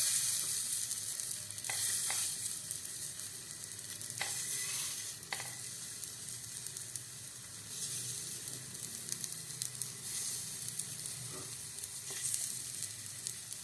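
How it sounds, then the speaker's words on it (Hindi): Cabbage fritters fry in a little oil on a hot tawa, making a soft, continuous sizzle with occasional sharper crackles and light scraping, fairly quiet and close, with no talking. "एबे रखि बरा को मुझे देदेली"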